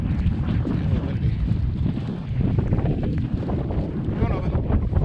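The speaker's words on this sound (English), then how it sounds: "It's a little windy." Strong gusting wind buffets the microphone with a heavy low rumble throughout, steady and loud, with faint water sounds underneath.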